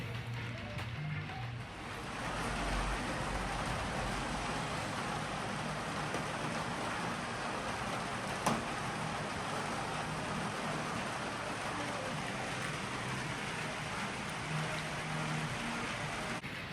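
Steady rain falling outdoors in Cornwall, a dense, even broadband hiss that holds constant from start to finish with no speech.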